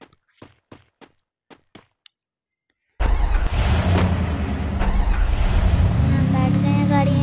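A car engine starts up in a battle royale video game, a loud steady engine roar beginning abruptly after a few light footsteps and continuing to idle and rev.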